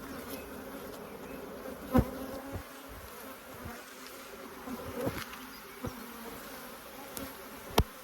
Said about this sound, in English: This colony's a bit congested and gunked up, but it is the first inspection of the year.